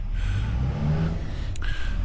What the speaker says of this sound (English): Sorry about the noise in the background, we're just trying to get a Rover running properly.